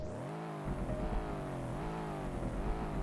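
Engine of an SVR car firing up, opening with a sharp catch and settling into a loud, deep rumble with rising and falling revs held close for the full three seconds, with no talking.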